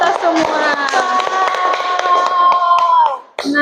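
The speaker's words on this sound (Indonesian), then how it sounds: "Kita beri aplaus untuk kita semua" Students and teacher in a classroom clap together in a short burst of brisk applause lasting a few seconds, with tonal sound running beneath it before it stops abruptly.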